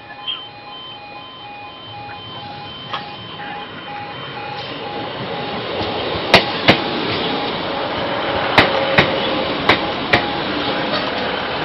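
A Class 156 diesel multiple unit, number 156401, rolls through Hykeham station with a steady, loud rumble and a few faint tonal notes, then a series of sharp rhythmic clacks as its wheels cross rail joints.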